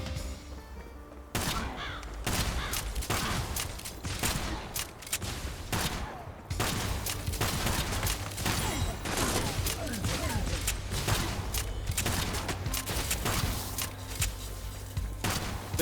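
Explosions go off repeatedly in the video game Kill the Crows, a dense run of sharp blasts and thuds that keeps going almost without pause over a constant low rumble, loud and close.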